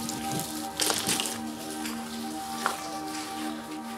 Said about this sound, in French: Il est vraiment en train de pleuvoir dans le tunnel.